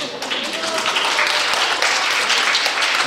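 An elementary school audience claps at a Japan Ground Self-Defense Force band concert, loud, even applause filling the hall with some talk mixed in.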